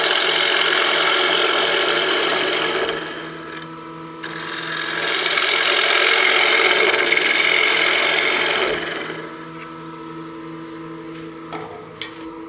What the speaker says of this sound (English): Now I can hollow this out a little bit more with my bull gouge.